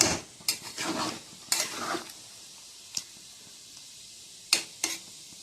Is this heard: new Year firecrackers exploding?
no